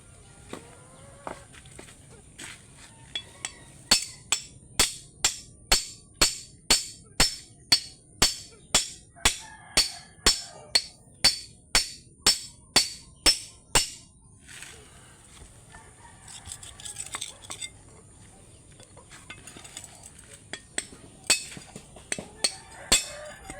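Agate stone is broken apart by hand without a cutter, giving a long run of sharp, evenly spaced strikes, near and loud, then a looser, more scattered patch of knocks toward the end.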